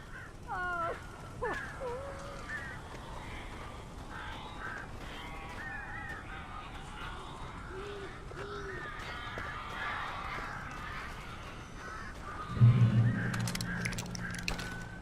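Crows cawing in the Alan Wake video game, several harsh caws scattered through a low ambient drone, moderately near, with a louder low thump near the end.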